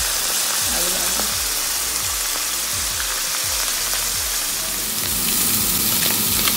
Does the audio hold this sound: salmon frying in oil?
yes